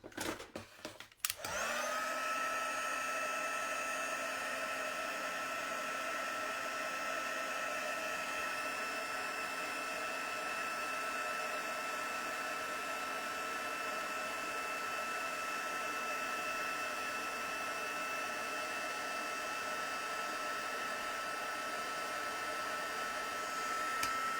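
A heat tool sets stamped embossing powder on a handmade card. A click is followed by a loud, steady blowing whoosh that runs unbroken for more than twenty seconds, close and alone, with no talk.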